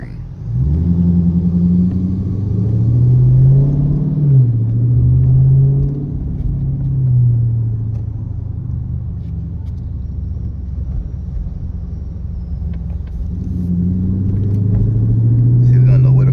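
A straight-piped Dodge Charger R/T engine rumbles steadily while cruising through city streets, a deep low drone with gentle swells as it accelerates, under occasional talk from people inside the car.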